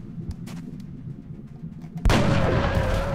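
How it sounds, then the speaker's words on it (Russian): A sharp, loud gunshot, a headshot in XCOM: Enemy Unknown, bursts in after a stretch of quiet game ambience and small clicks, leaving a lingering rumbling echo. "Ну давай выстрел в голову"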